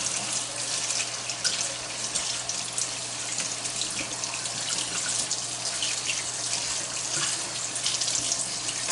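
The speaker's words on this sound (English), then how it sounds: "All I'm really doing is rinsing off some of this seasoning and the extra that's just laying on there." Tap water runs steadily into a kitchen sink while seasoned steelhead trout fillets are rinsed under it, a constant close splashing hiss with slight fluctuations and no talking.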